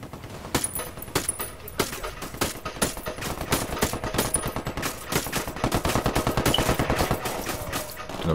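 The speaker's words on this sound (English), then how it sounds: "Sounds like a sniper, west of our position." Gunfire in Ghost Recon Wildlands during a night airfield takeover, loud rapid volleys of shots in dense bursts with sharp cracks, including sniper rifle fire, building into near-continuous shooting toward the end.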